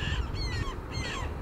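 A red-billed chough calls on the Baltoro glacier, giving a few harsh, crow-like caws over steady loud wind or outdoor rumble.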